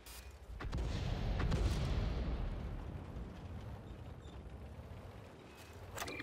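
Tank cannon fire in a video game: a heavy, rumbling boom swells and decays over several seconds, fairly faint and distant-sounding, with no talk over it.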